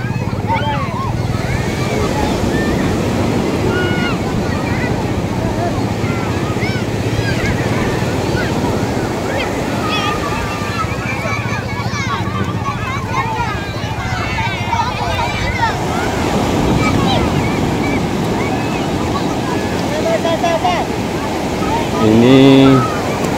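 Small ocean waves wash steadily onto a beach at Teluk Kumbi where children are bathing, a continuous broadband surf roar with wind buffeting the microphone and faint voices mixed in.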